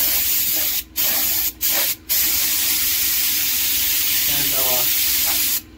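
A cheap Harbor Freight paint spray gun, partly gummed up, sprays a 3-point snowblower in a loud continuous hiss, broken by three brief trigger releases early on; a voice speaks briefly.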